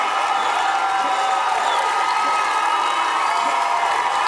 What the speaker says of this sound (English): as it fades out, it sounds like the crowd is chanting for the album to start over